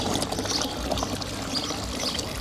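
Water from a public street drinking fountain runs in a continuous splashing pour, close and steady with a broad hiss throughout.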